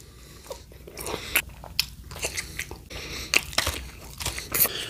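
A Reese's peanut butter chocolate bunny is bitten and chewed up close, with crisp crunching bites and wet chewing in an uneven rhythm, loud and intimate, with no talking.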